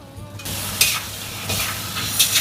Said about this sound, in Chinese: 2颗八角、花椒、麻椒，给它翻炒，炒出香味